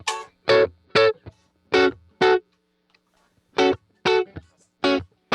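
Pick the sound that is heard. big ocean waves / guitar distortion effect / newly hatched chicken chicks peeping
guitar distortion effect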